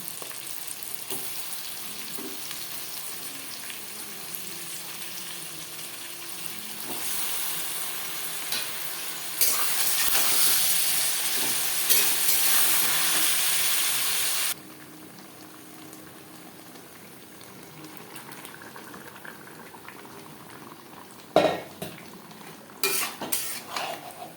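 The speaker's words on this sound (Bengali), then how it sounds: "পেঁয়াজ টমেটো ভেজে নেওয়ার পর দিয়ে দেবো ম্যারিনেট করে রাখা চিকেন" Marinated chicken frying in a pan with onion and tomato for chicken biryani, a steady sizzle that swells louder midway, then quieter stirring with occasional clanks of a utensil against the pot.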